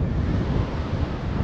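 Waves washing along the Barents Sea coast on the Varanger Peninsula, a dense continuous surf roar mixed with wind buffeting the microphone, loud and unbroken.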